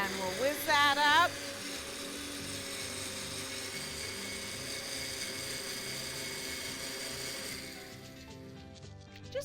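A countertop blender whizzes a frothy drink under a towel, with a steady loud whirring drone that holds for several seconds and then winds down near the end.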